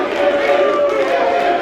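Steady, loud din of a pro wrestling crowd on its feet, a continuous blended roar of cheering with a faint tonal hum running beneath it.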